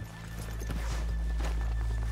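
Horse hooves clip-clopping in the Red Dead Redemption 2 video game, several irregular hoof thuds over a steady low hum, moderately close and fairly quiet.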